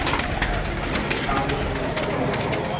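Highflyer pigeons coo softly and repeatedly in Lahore, several birds overlapping amid a busy background hum, with no talk.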